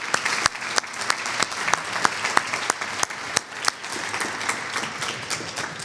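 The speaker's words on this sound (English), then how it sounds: "how about if we give another round of applause for these impressive individuals?" Audience applause at a university awards ceremony, a dense, lively round of many hands clapping with distinct sharp claps close by, steady for several seconds.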